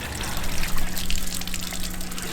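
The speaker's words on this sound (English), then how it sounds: "Alright, we're gonna let this drain." Water drains steadily from a camper van's plumbing, a continuous trickling gush with a low hum underneath, close and fairly loud without pause.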